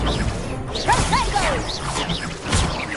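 Incendio fire spell cast during a duel in Hogwarts Legacy, heard as a loud, close burst of whooshes and crackling impacts with swirling, rising effects that fill the whole moment.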